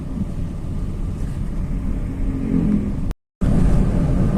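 An automatic Honda Jazz with a VTEC engine hums from inside the cabin while driving, a steady low rumble with a brief cut-out near the end.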